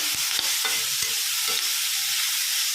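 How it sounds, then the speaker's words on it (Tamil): Grated beetroot sautés in a pan with a close, steady sizzle, while a spatula scrapes and taps at a quick, uneven rhythm and nobody talks. "நல்லா இந்த அளவுக்கு வதக்கணும்."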